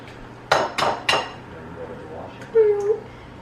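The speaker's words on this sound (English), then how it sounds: "Add in 2 eggs here" Two eggs cracked on a bowl rim into banana muffin batter: three sharp close knocks in quick succession, then a brief quieter clink and soft clatter, with no talk.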